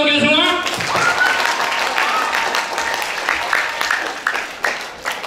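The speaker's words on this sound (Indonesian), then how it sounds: "Tepuk tangan untuk kita semua." Audience applause in a school hall, starting under a sung or drawn-out voice, then scattered claps and taps build through the second half, moderately close.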